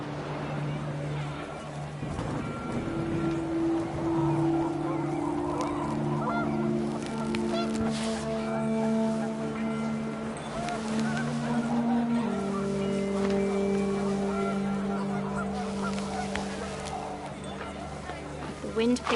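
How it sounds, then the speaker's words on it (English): Panicked geese honk repeatedly in What Remains of Edith Finch, with layered, overlapping calls held for nearly twenty seconds beneath a steady wash of wind and a speaking voice. "The wind picked up and panicked geese appeared and quickly went."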